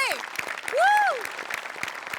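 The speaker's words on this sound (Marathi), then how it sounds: "सगळ्यात आधी सेटिंग डिपार्टमेंटसाठी टाळ्या." A theatre audience at a Marathi comedy stage show applauds with steady clapping, and a rising-and-falling whistle or whoop rings out over the crowd.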